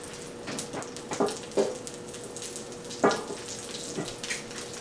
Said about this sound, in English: I'm going to add a little grapeseed oil. And then I'm just going to put them skin side down